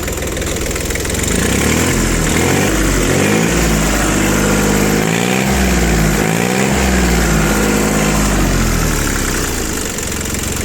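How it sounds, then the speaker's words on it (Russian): The diesel engine of an ISEKI TL2500 mini tractor runs steadily and loudly up close, with a low rumbling idle that rises and falls as the throttle is worked. "Мотор отзывается на газ очень хорошо"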